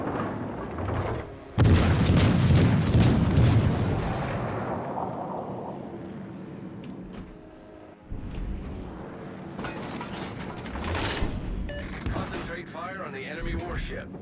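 Heavy warship guns firing in a naval battle game, one massive booming blast with a long rumbling decay, followed by further scattered impacts and crackling bursts, with voices talking over parts of it.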